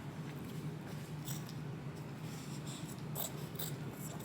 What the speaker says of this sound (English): we're going to cut the inseam